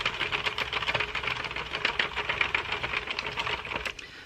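A Loops and Thread knitting machine carriage clatters across a row in a dense, continuous run of rapid mechanical clicks and rattles, close and steady, easing off briefly near the end.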